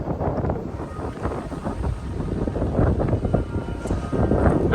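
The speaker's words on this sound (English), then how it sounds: "The wind has arrived. We've already gusted to 50 knots here, with more wind on the way." Strong blizzard winds gust in Nebraska with a continuous loud roar and heavy microphone buffeting, rising and falling in gusts and swelling louder toward the end, with no voices.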